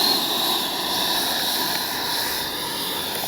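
An RC MiG-29 model jet with a 64mm electric ducted fan diving overhead, a loud steady high-pitched whine and rushing hiss that holds throughout.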